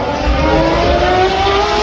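A Ferrari race car with a 6.5-litre naturally aspirated V12 and targa top accelerates at the Goodwood Festival of Speed hill climb, a loud, close, rising engine tone that holds steady throughout.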